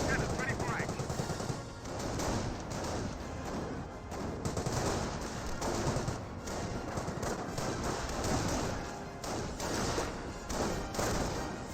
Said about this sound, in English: Jeep firing some shots there onto the Panzer Grenadiers